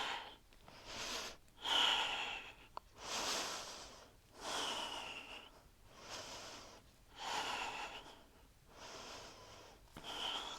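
Slow, deep yoga breaths through the nose during a flow session, about six long inhales and exhales in an even rhythm, close and soft, each breath a rushing airy swell with quiet gaps between.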